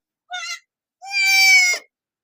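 A mother goat that has just given birth bleats twice nearby on a goat farm, a short cry followed by a longer, wavering bleat, with silence around them.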